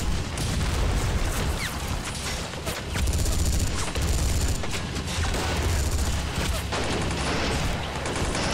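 Machine gun fire in the toy-soldier war game Army Men: World at War, rapid sustained bursts of automatic gunfire with booming explosions mixed in, dense and loud throughout the battle.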